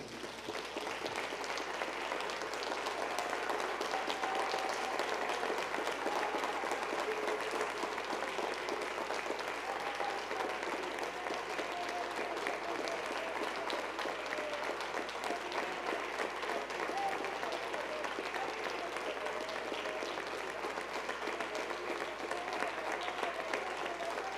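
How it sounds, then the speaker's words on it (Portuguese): Sustained applause from a large audience, a dense steady wash of clapping lasting throughout without letting up. "Vamos aplaudir o nome de Jesus."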